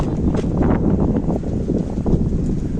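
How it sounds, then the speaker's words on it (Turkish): Steady, loud wind buffeting the microphone with a continuous low roar and rustling, no pauses, close and constant throughout. "Aşırı derecede rüzgar var"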